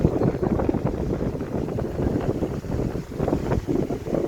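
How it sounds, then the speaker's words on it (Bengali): A Sony high-speed electric fan running, a continuous rushing airflow with gusty buffeting, fairly loud and without any separate motor whine or rattle. "দেখেন ফ্যানটা কিন্তু অত্যন্ত ভালো, হাই স্পিডে বাতাস হয়, ঝড়ের মতো এক কথায়।"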